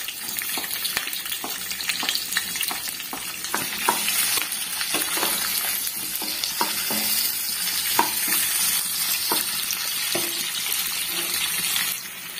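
Onions, added with curry leaves and tempering spices to four tablespoons of hot oil for a Telangana potato-brinjal curry, sizzle steadily and loudly, with repeated clinks and scrapes of a stirring spoon against the pan.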